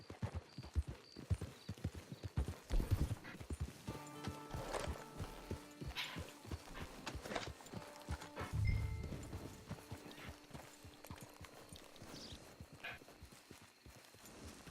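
Horse hooves clip-clop steadily at close range in Red Dead Redemption 2 Online, with a brief whinny and faint ambient game music underneath.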